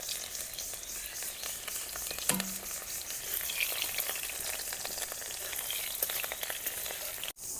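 Chopped onion dropped into hot oil with dried red chilli and cumin seeds, frying for masoor dal: a continuous close crackling sizzle with one brief clink of a utensil partway through.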